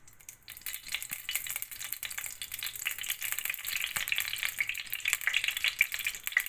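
Cooking oil heating in a pan on a home stove for sautéing, a steady thin crackling sizzle that builds gradually and stays moderately close, with no one speaking.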